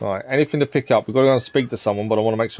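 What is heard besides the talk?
No distinct noise like a dog, phone or traffic.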